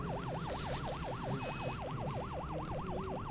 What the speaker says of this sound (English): The car on the right has a siren